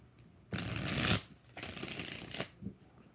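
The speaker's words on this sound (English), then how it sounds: "Let me shuffle it one time." Tarot cards being shuffled close by in two riffling bursts, the first loud and sustained, the second a little softer, with a short flick at the end and no talk.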